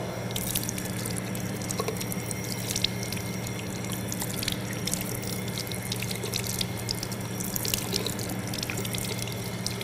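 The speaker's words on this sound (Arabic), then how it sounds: "نأخذ الماء من بداية اليد إلى المرفق ثلاث مرات" Running tap water splashing over a forearm from hand to elbow during wudu ablution, a continuous close stream with irregular drips and splatters against the sink.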